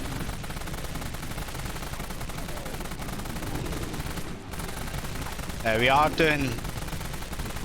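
A GAU-19 minigun fires in the Dead Frontier video game, a steady rapid rattle of shots running nearly without pause, with someone talking over it.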